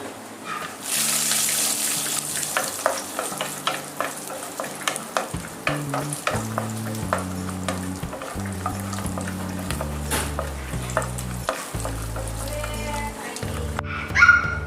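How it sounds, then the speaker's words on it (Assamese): Cashews and almonds frying in a small amount of oil sizzle steadily in a pan, broken by frequent stirring and scraping clicks, with a brief louder clatter near the end. "কাজু আৰু এলমণ্ডখিনিও আমি অলপমান ফ্ৰাই কৰি লওঁ।"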